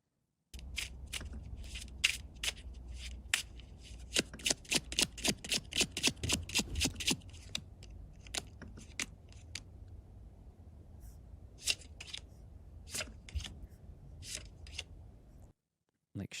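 Playing cards are shuffled in a quick run of crisp, rapid riffling clicks, followed by scattered flicks and snaps of the cards at close range.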